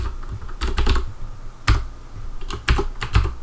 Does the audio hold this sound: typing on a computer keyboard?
yes